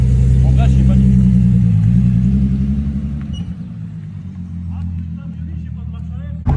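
A Volkswagen Golf 2 with a VR6 engine drives along, giving a loud, close, low engine rumble that eases off midway, heard from inside the car under people talking.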